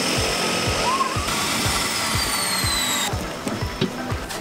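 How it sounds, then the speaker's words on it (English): A float plane landing on the water on the way to Esnagami Lake, its propeller engine giving a loud steady drone with rhythmic low pulses that fades a little toward the end, with no voices. "Look, a float plane's landing right on the water."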